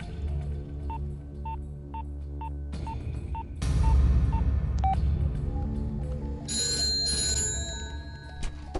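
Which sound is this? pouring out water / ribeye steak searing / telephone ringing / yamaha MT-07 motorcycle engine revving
telephone ringing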